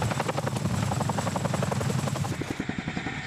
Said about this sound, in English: The Chinook is a heavy-lift helicopter with two engines